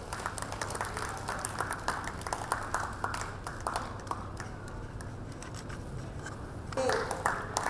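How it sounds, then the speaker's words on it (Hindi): Audience at a prize distribution claps in a steady patter of many hands, moderately loud and continuous, with a brief voice cutting in near the end. "शर्मा जी के लिए भी तालियां हो जाए"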